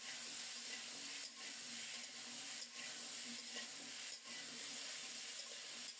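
Cauliflower and radish, cut and washed, fry in salted oil in a pan, giving a steady broadband sizzle with faint stirring scrapes and no talk.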